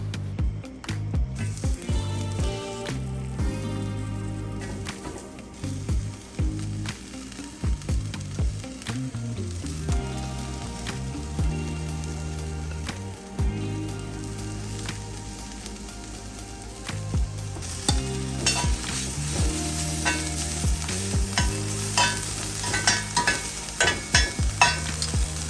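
Baby broccoli sears in a hot cast iron grill pan, giving a steady close sizzle with repeated stirring and scraping; the frying grows louder and brighter toward the end.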